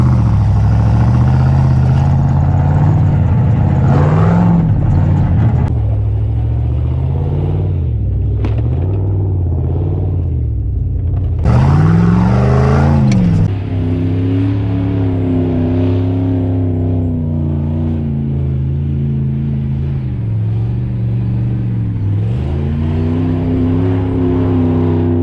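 V8-swapped Jeep with a 5-speed on 33-inch tires crawling off-road, its engine loud and close, revving up and down in repeated surges with deep rumbling between pulls.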